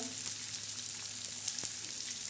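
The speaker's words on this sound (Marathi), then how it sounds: "आता कढीपत्ता टाकल्याच्या नंतर आपण कांदा टाकणार आहे" Onions sizzle in hot oil with curry leaves, a steady close frying hiss with one sharp crackle partway through, and no one speaking.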